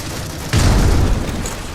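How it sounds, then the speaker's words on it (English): A frag grenade explodes in the video game Critical Ops, one sudden loud boom with a low rumbling tail that fades over about half a second. "Tossing frag."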